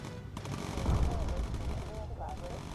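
Bomber gunners firing machine guns in the World War II bomber game Bomber Crew, a dense continuous rattle of gunfire with low booms running loud through the whole stretch, with brief tonal game effects layered over it.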